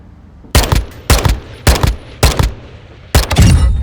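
Full-auto assault rifle fire in Modern Warfare 2, loud and close: five short rapid bursts spaced about half a second apart, the last one longer, with no talking.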